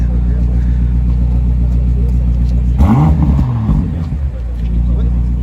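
A Porsche GT3 RS sports car arrives on a Paris street, its deep engine rumbling steadily with a brief surge midway. Voices may sound faintly over the engine.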